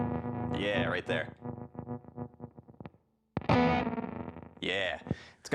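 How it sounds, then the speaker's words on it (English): An electric guitar runs through a Walrus Audio Eons fuzz pedal starved to 3 volts, with gain at about 3, giving gated, sputtering, broken-up fuzz. Choppy bursts fade out, a short silence follows, then harsher fuzzed strums return, loud and close. "it's like a sputtering on its last leg. Your battery is about to die"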